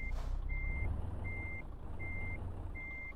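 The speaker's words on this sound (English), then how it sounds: "I need to go in reverse" Truck reversing beeper in Euro Truck Simulator 2 sounding four evenly spaced electronic beeps over a steady low diesel engine rumble, with a brief hiss of air at the start and no talk.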